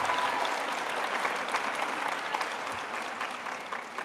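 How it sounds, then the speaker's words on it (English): Audience at a fifth-grade promotion ceremony in a school gives a steady round of applause, many hands clapping in a dense, even wash that holds throughout, moderately distant and soft. "Let's give him a round of applause."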